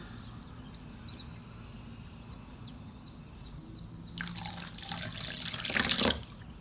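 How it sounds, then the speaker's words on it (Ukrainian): Warm water poured into a thick-bottomed saucepan over sugar, a steady splashing trickle that swells and brightens toward the end, close by with no talk. "у сотейник з товстим дном додаю 360 грамів цукру та 160 грамів теплої води"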